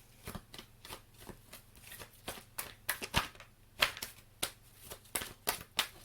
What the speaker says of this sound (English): let's drop an Archangel Oracle card here for Sagittarius and close the message